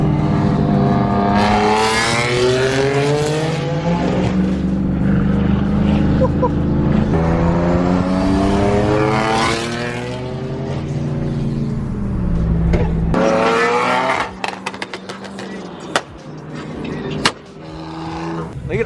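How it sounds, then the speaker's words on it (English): BMW F80 M3 fitted with a V8 and straight-pipe exhaust, loud rising and falling revs with rough crackles toward the end, up close, while people talk excitedly over it. "it has a big ass V8 in it. It's a V8, bro. Straight pipe. That shit's loud"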